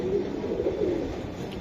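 A racing pigeon gives a low, throaty coo close by, a rolling warble that rises and falls over a second and a half with no talking.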